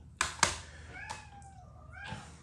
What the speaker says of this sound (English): Cat's coming.